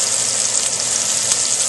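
Chicken frying in hot oil gives a dense, continuous crackling sizzle, loud and close, with no speech.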